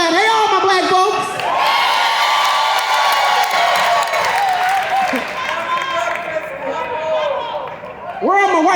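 A comedy club audience claps and cheers loudly on cue, a dense sustained wave of applause with whoops and a raised voice over it.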